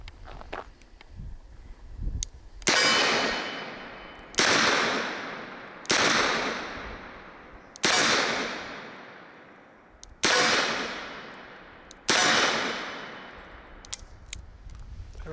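Six sharp, loud revolver shots from a Smith & Wesson Governor fired one-handed, spaced about two seconds apart, each cracking sharply and ringing out into a fading tail.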